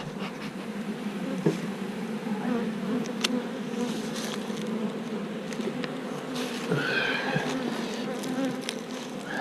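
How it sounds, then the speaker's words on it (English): A dense, steady buzz of many bees fills the air without pause, close and even, with no voices. "This colony here, as you can see, looks pretty strong."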